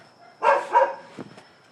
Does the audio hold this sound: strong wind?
no